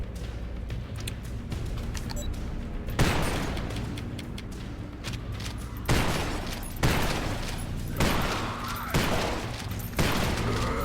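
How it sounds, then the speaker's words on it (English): Shotgun blasts boom in a gory video game boss battle, five or six heavy shots spaced about a second apart over a rumbling, noisy game background. "let's use a shotgun a little bit here"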